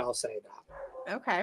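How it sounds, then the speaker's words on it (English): A dog barks and yips near a person who is talking, the brief canine calls mixing with the speech over a moment. "if you can hear the dog"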